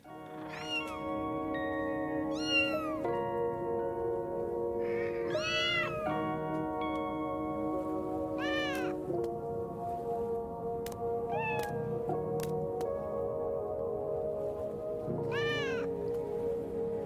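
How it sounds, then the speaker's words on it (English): Several cats meow repeatedly over a steady, droning background, with rising and falling cries coming every second or two, some overlapping, fairly close and clear. "He has various cats."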